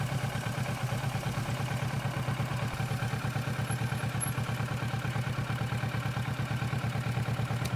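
A Kawasaki Versys motorcycle engine idling steadily while the rider turns the bike around, a low, even rumble with a fast, regular pulse, close and continuous with no talk.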